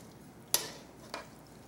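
Eggs, mushrooms and onion being stirred in a pan, with two distinct scraping clinks of a utensil against the pan over a soft background sizzle.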